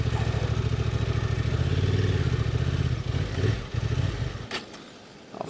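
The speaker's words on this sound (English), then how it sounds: "Look how the wheel is going in the sand." A Honda Transalp 750 motorcycle engine revs hard and steadily while its rear wheel spins in deep sand, with a clattering, pulsing drone that dips and then fades near the end.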